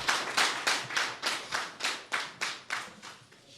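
About a dozen slow, evenly spaced claps ring out in a steady rhythm, fairly close and clear, with no voices alongside them; they come during a Beninese sports broadcast honouring someone from Kandi.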